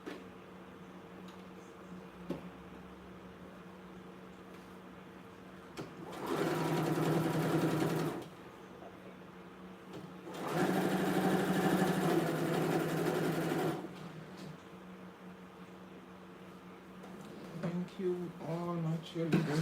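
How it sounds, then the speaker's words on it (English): Sewing machine top stitching a tote bag runs in two loud, steady bursts of a couple of seconds each, separated by quieter pauses with faint handling clicks and background sound. "I'm doing a top stitch on this"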